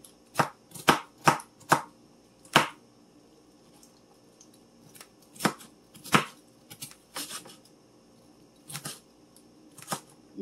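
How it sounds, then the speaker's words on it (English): Sharp knife chopping an onion on a board in a home kitchen, a quick burst of four or five crisp cuts, then slower scattered chops with pauses, close and fairly loud. "Get the onion cut."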